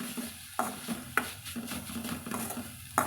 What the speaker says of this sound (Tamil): கலந்து விட்டுடலாங்க.